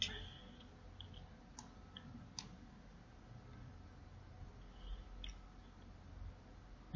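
Computer mouse clicks while editing a table in MS Word: a few sparse, faint, sharp ticks spaced irregularly over quiet room tone.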